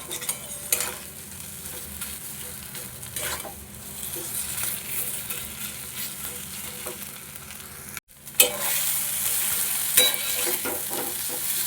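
Potato filling fries in a pan with a steady sizzle, broken by repeated scrapes and knocks of a spatula stirring close by, with no talk.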